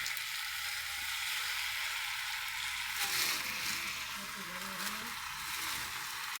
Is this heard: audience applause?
no